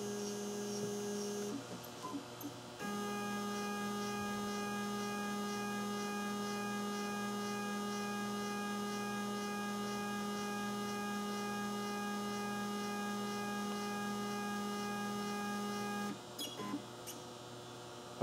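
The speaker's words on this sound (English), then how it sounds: "I'm going to press home all, and then it should home the lathe" A CNC lathe inside a glovebox homing its axes gives a steady motorised whine over constant electrical hum. The whine starts a few seconds in, holds for about thirteen seconds, then stops, with no talking.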